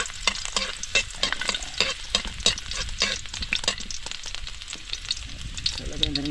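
Mussels for adobo sauté in a hot pan, with a close, continuous sizzle broken by repeated scraping stirs from a utensil, and no voices.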